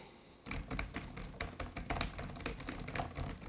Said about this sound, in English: Let's just do a quick little keyboard test right here.